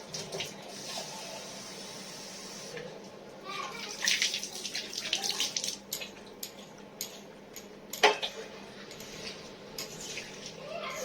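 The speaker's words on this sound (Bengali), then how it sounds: "জল দিয়ে ধুয়ে দিলে বেশি টাইম লাগে না" Water sloshes and splashes across a floor being rinsed during household cleaning, with running, gurgling flow and a few sharper splashes and knocks, nearby and without talk.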